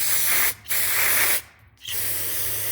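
Aerosol carburetor cleaner sprayed into the crusty fuel bowl of a Troy-Bilt Storm carburetor, in two long close hissing bursts separated by short pauses, with a low steady hum underneath.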